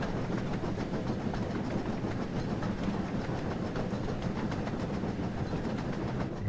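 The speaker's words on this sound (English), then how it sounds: "get some nice dynamic shots as the train goes across the viaduct" Train rolling across a viaduct in a Thomas train simulator game, with a steady, loud clickety-clack of wheels over rail joints and continuous rumble throughout.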